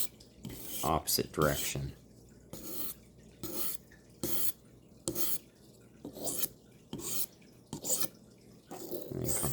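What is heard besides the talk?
knife being sharpened with draw strokes on a stone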